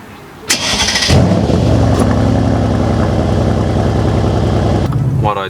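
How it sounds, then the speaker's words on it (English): Mercedes-AMG C63s V8 cold start: a starter whirr, then the engine catches with a loud bark and settles into a steady, loud, rumbling high idle that holds for several seconds before cutting off. "What will cold start sound like?"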